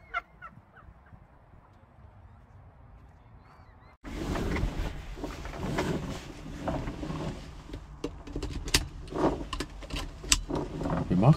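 Vauxhall Chevette rally car starts and drives off with a sudden rise of engine noise after a quiet stretch, a rough, fluctuating rumble with clicks and rattles close by that grows louder.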